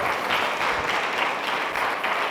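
A dense, even round of audience applause filling the room for a couple of seconds at a talk on work-life balance, sustained and fairly loud without a break.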